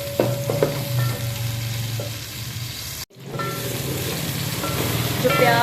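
Onion sautéing in a pan gives a steady sizzle with a few spoon scrapes and clinks early on, a brief cut partway through, then continuous frying resumes and builds slightly.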